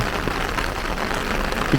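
Rain falling in Japan, a steady soft hiss of drops pattering on surfaces with a few faint louder drips, no voices.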